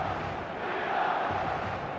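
A stadium crowd in the eFootball video game sends up a steady, loud roar of massed voices and cheering, sustained and unbroken without pauses.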